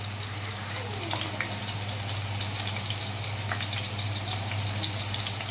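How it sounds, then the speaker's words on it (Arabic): Small grated onion frying in hot oil in a pan, giving a steady low sizzle and faint crackle throughout with no one speaking. "هنزل ببصلايه صغيره مبشوره، بصله صغيره مبشوره"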